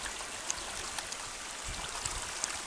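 Spring water from the ojo de agua at the former hacienda of Curimeo flows steadily, a soft, even outdoor rush with faint tiny ticks and no voices.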